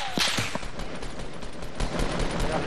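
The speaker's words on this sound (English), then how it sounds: "We're being shot at." Rapid gunfire in Fortnite Battle Royale, a fast rattling string of close cracks over a dense, noisy backdrop, with a brief whistling tone early on and no talk.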